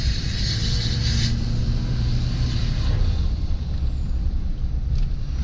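A heavy LBZ Duramax diesel pickup truck engine roars steadily under acceleration with a constant low rumble and a bright turbo whistling hiss on top, loud and close, with no voices.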